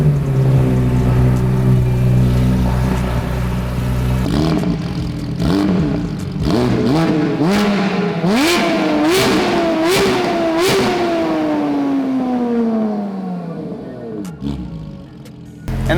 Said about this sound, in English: I'll also show you the exhaust right now.